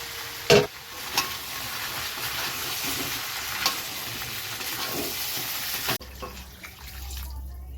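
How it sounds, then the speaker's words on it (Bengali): Potato pieces tossed into a pan of frying pumpkin and stirred: a soft continuous sizzle with scraping stirs and a few sharp clinks near the start, then the frying fades to a quieter hum. "এবার আলুটা দিয়ে নেড়ে ছেড়ে জলটা দেবো"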